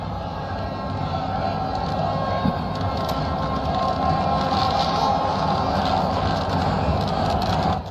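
A stadium crowd at an India versus South Africa cricket final cheers and applauds for Aiden Markram. The dense, distant roar of many voices holds steady and fairly even throughout.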